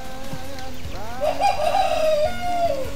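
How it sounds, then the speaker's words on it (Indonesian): A village rooster crows once nearby, a rising then sustained strained call lasting over a second, set against light rural background noise and soft thumps. "tatarik kongkorongokna jago"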